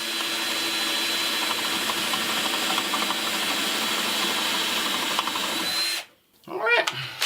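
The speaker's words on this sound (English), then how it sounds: "A little bit of countersinking for my protection." A power drill countersinks a screw hole in shelving inside a shipping container home, a close, steady whirring drone for about six seconds that then stops abruptly and is followed by a short clatter.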